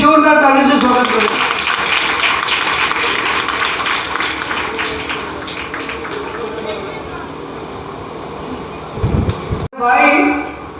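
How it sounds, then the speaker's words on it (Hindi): Applause at an award ceremony: a crowd's dense, crackling clapping starts loud, then tapers off gradually, and a voice speaks over a microphone near the end. "एक बार ओरा ज्वेलर्स के लिए जोरदार तालियों से स्वागत करें।"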